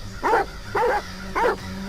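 Three evenly spaced barks from a dog in the video game Die Young, each short and fairly loud, with a brief pause between them and no talk over them.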